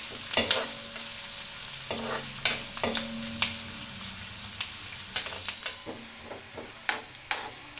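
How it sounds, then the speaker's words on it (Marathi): Onion frying in a pan for dal vang is stirred and scraped with a utensil in repeated clattering strokes over a steady sizzle. "कांदा टाकून घेते. तर लाल होऊ द्यायचा कांदा चांगला."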